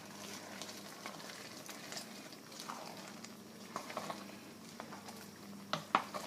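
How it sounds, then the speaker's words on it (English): Craisins stirred into a simmering tomato, apple, pear and rhubarb chutney in a pot, giving soft scraping and gentle bubbling with a few sharper clicks of a spoon against the pan near the end, steady and fairly quiet. "so we bring in the craisins. Mix them right in."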